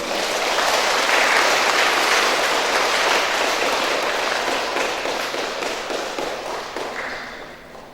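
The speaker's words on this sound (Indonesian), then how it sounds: "mari kita tepuk tangan untuk berdoa" Wedding guests at a church ceremony applaud together, a dense crackling roll of many hands clapping that is loud at first and slowly fades away, with no speech over it.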